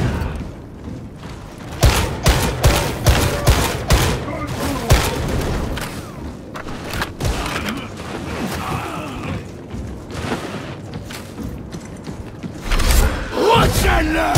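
Lasgun fire in the Warhammer 40,000: Darktide game as a Veteran, a dense run of sharp booming shots and bursts over the game's mechanical clatter and thuds, loud and close, with a voice calling out at times.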